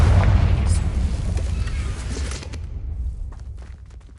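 A Confringo blasting spell detonates in a Harry Potter video game with a loud, booming blast, its rumble slowly fading while scattered small crackles and debris ticks follow.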